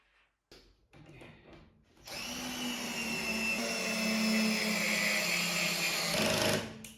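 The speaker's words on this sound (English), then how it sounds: "Then grab 2 large screws and change the screwdriver head to fasten them in place." A power screwdriver drives large screws into an IKEA Brimnes wardrobe panel, starting after a few brief clicks and handling noises, then a steady close motor whine holds for several seconds before stopping.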